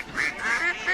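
A cartoonish duck quacks four times in quick succession as a sound effect in a radio advert, clear and fairly close against a quiet background.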